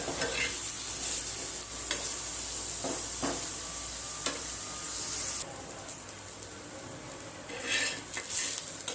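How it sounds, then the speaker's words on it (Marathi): Chopped onion fries in a pan for a spiced brinjal dish, making a continuous crackling sizzle with spatula scrapes and light clinks of metal. The sizzle drops noticeably partway through. "कांदा टाकूया. तोही गुलाबीसर होईपर्यंत मस्त भाजून घेऊया."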